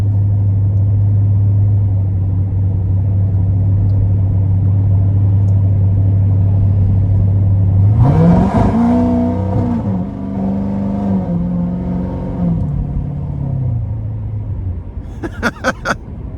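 A Procharged 850 hp C7 Corvette Z51 3LT engine idles with a loud, steady low drone, then revs hard and accelerates with a roaring rise and several gear-change dips before settling back, up close and alone.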